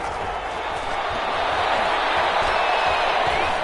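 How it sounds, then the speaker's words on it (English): Stadium crowd noise from an American football video game, Chargers versus Bills, swelling for a big third down: a steady, loud wash of cheering that grows slightly louder midway and holds without a break. "the crowd getting into it as we come up on a big third down"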